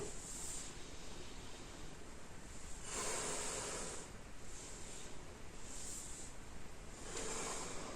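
Slow yoga breathing during a dynamic flow session: several soft, airy exhalations rise and fade at a steady pace. They are close but gentle, and there is no talk.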